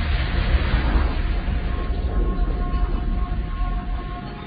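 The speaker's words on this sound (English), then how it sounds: "explosion tore through a car being driven by two Earth First activists on an Oakland street today" A car bomb explodes on an Oakland street, heard as a loud, muffled, low roar that rolls on as a dense rumble for several seconds, with a dull, band-limited tone.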